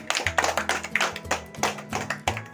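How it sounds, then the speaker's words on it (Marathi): Children in a classroom clapping for a classmate: a short burst of quick, uneven hand claps up close, with a few voices murmuring underneath. "क्रितिकसाठी टाळ्या होऊन जाऊ दे"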